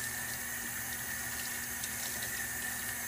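Tap water runs steadily and fairly loudly to rinse bleach out of hair, a continuous even splash with no talk over it.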